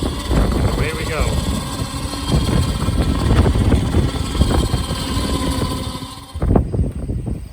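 A motorized winch drags a folded hoop building frame, tied at one end to a fence post, back into shape; a steady engine-like drone and rattling strain run loud and continuous outdoors, then cut off abruptly near the end.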